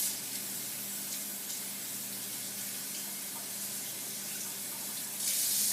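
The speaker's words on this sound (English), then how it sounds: "I'm just going to run it under some cold water" Cold tap water runs steadily over kale in a kitchen sink, a continuous hissing splash at close range with a slight surge near the end, no voices.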